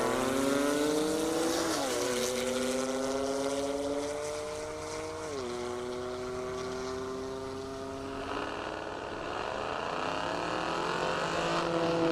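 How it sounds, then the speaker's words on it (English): Drag racing pass at a half-mile airport track featuring a 2008 Chevy Corvette Z06 and a 2015 Porsche 911 Turbo S, with loud sustained engine roar rising through repeated gear shifts, steady and close throughout. "Now we've got John Moore in a 2008 Chevy Corvette Z06 and Aviaris Norcas in a 2015 Porsche 911 Turbo S."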